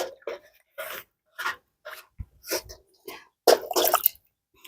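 A small stick stirs liquid fertilizer in a container while cucumber and zucchini seedlings are being planted. It gives irregular splashy scrapes and clinks in short bursts, close and moderately loud.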